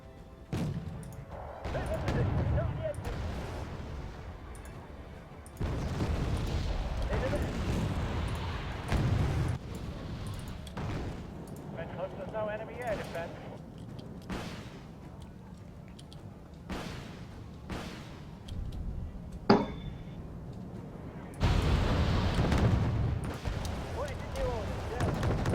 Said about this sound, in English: Bring in some mortars.